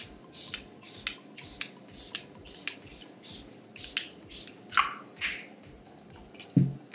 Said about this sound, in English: I'm gonna use this Charlotte Tilbury Airbrush Flawless Spray.